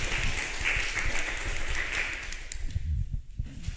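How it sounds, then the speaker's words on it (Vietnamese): An audience at a Buddhist meditation gathering applauds to welcome the practitioners, a dense steady patter of clapping that thins toward the end. "xin đại chúng cho một tràng pháo tay để đón thiền sinh hội đạo"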